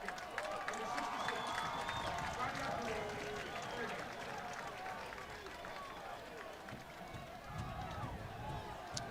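A large stadium crowd roars and cheers steadily at a rainy FIU Stadium college football game between Bryant and Florida International, a dense continuous wash of voices with an announcer talking over it throughout.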